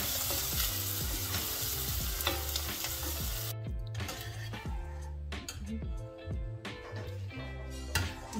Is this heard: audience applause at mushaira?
no